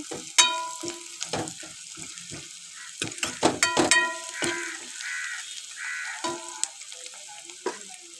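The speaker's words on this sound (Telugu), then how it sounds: "ఆనియన్స్ ఇలా బ్రౌన్ కలర్లో వచ్చినంత వరకు ఫ్రై చేసుకోవాలండి" Onions fry in a pan until browned, a soft sizzle under intermittent clanks and scrapes of stirring, with crows cawing now and then in the background; no one speaks.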